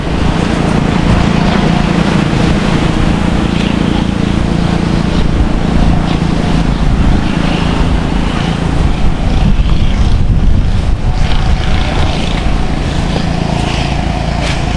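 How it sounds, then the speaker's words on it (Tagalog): Strong wind buffeting the microphone in an open rice field on an island, a loud continuous low roar with gusting rumble lasting throughout, and no voices heard over it. "Grabe, sobrang lakas ng hangin."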